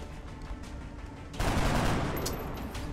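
Panic fire in the XCOM video game, with a burst of rapid in-game gunfire erupting suddenly over a low background of game ambience and continuing loud to the end.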